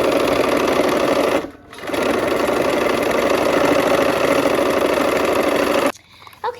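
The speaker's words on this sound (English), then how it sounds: "we are sewing the sail to the sky piece here" Sewing machine running steadily as sail fabric is stitched to a sky piece, a near, continuous mechanical whir that pauses briefly once partway through and stops near the end.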